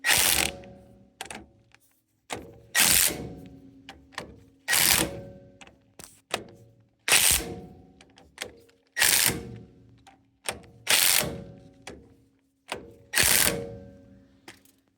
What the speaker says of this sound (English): We'll do a final torquing in a star pattern